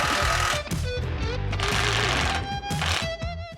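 A power tool buzzes steadily while tightening a 1/2-inch bolt with a 3/4-inch head and nut on the rear bumper with swing arms of a 2024 Lexus GX550. The tool is loud and close, with short pauses between bursts.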